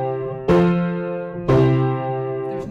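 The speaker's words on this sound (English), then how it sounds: "It's also known as the amen cadence in church music." Two sustained chords played in succession, a plagal amen cadence moving from IV to I in a minor key, as in church music. Each chord is struck with a clear attack about a second apart and rings out evenly, with no voices.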